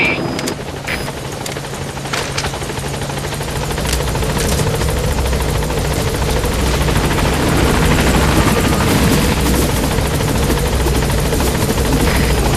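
The Pequod helicopter in Metal Gear Solid V arrives at a landing zone, its rotor thumping loudly and continuously and growing fuller as it settles in close.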